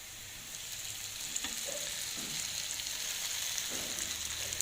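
Marinated bitter gourd frying on a tawa, a steady soft sizzle with occasional stirring taps, fairly quiet and close, no talking.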